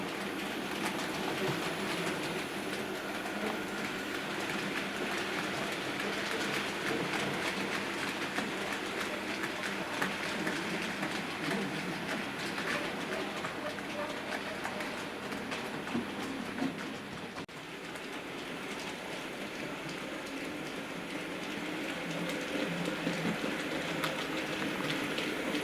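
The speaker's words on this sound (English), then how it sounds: "we're really working this locomotive, as you can see" A Hornby P2 R3440 gloss-finish model locomotive runs steadily on its track, a continuous close mechanical whirr and rail clatter held at even loudness throughout with a brief dip partway, no talking.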